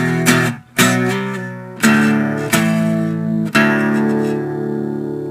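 Guitar barre chords from a song, barred on the bottom strings and alternated with open strings, five strummed chord hits that ring out between attacks, loud and close with no talking.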